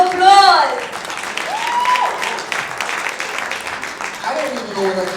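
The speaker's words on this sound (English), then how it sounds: "can we give all of our lovely 15 contestants a round of applause?" Applause from a studio audience for fifteen contestants at a pageant-style finale, a steady wash of clapping lasting several seconds, with voices calling out and speaking over it.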